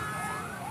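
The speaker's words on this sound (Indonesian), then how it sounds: "ini ambulan dari rumah sakit yang lain, ini bantuan dari rumah sakit terdekat aja banyak" Ambulance sirens from several emergency vehicles responding to an evacuation at a hospital in Padang, Indonesia, wailing with a rising and falling tone over steady traffic and crowd noise, loud and fairly close.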